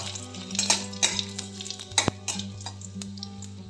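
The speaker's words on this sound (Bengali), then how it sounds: "একটা শুকনো লঙ্কা দু টুকরো করে দিয়েছি আর হাফ চামচ জিরা গোটা জিরে দিয়ে একটু নেড়ে নেব" Whole cumin seeds and a dried chilli broken in two fry in oil and are stirred, giving a soft steady sizzle with light scraping and clinks of a spoon against the pan, close and quiet.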